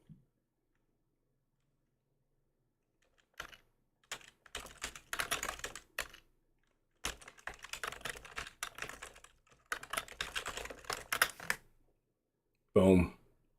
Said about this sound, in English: Oh, just type it.